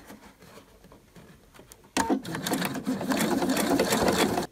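A sewing machine stitches across the lining of a French market bag, starting quiet and sparse, then running steadily and loudly as a continuous fast mechanical whir at close range.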